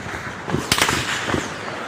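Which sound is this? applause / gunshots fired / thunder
gunshots fired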